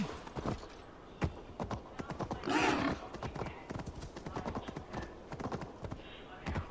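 A battle pig mount in the video game Assassin's Creed Valhalla runs with a rapid, steady clatter of hooves, close and continuous, with a brief noisy burst partway through and faint game ambience underneath.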